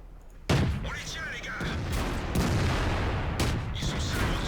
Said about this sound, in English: Shooting him up. Put another one into him.